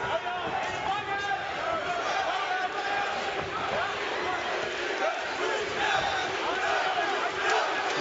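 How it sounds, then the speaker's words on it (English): A boxing-match crowd roars and cheers steadily for a female fighter, a dense, continuous wall of voices and shouts with a commentator talking over the top. "You hear the crowd cheering on their favorite Piet van der Berg"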